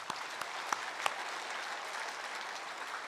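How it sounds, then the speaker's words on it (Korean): A Korean church congregation claps in praise during a Sunday worship service, a soft, steady patter of many hands heard at a moderate distance, with a few sharper claps standing out at the start. "하나님께 영광의 박수로 드리겠습니다"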